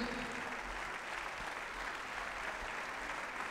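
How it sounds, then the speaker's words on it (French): A crowd applauds steadily at a mixed doubles badminton semi-final at the French International, a dense, even clatter of clapping that holds at a constant level throughout with no voices rising above it. "Donc, on applaudit s'il vous plaît."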